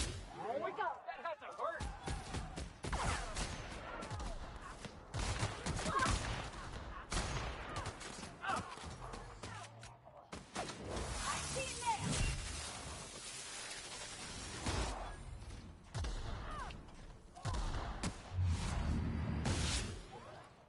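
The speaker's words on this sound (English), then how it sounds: "Look at them firing freaking grenades at this guy" Combat in The Outer Worlds with enemies firing grenades: repeated bangs, bursts of gunfire and whooshes come in rapid, uneven volleys, loud and busy, with someone talking at times.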